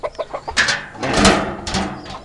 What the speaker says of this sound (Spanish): Mire el gallo este aquí.